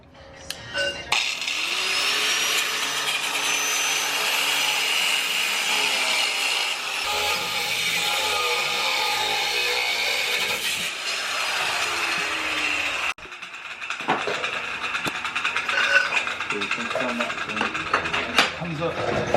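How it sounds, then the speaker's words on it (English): An angle grinder cuts the top off an old shock absorber being replaced on a 4th-gen Toyota 4Runner, giving a loud, steady, harsh whine for about twelve seconds before stopping abruptly, followed by a few clanks and rattles. "So I'm gonna take this grinder and just chop the top off"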